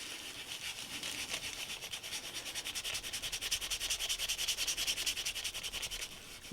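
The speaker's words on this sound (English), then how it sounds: "you can take some really fine sandpaper" Fine sandpaper rubs back and forth over a small model railroad service station piece in quick, steady strokes. The scratching is soft, close and continuous, and no one speaks.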